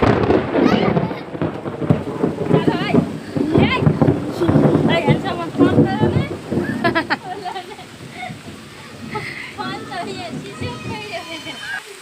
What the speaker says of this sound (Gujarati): કડાકા થઈ રહ્યા છે ને અહીંયા વરસાદ પડી રહ્યો છે